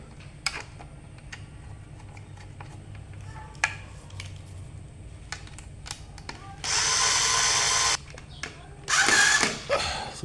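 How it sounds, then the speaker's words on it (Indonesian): An electric screwdriver whirs in two loud bursts, one about a second long and another shorter one, while fastening screws into a side-mounted electrical power socket, with scattered clicks and handling noises between the runs. "Saya pakai obeng listrik biar cepat guys."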